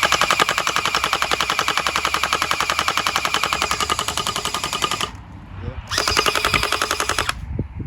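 A repaired gun with a reworked inner tube fires a rapid, rhythmic stream of shots up close. It runs steadily, drops out for a brief gap, then resumes before stopping.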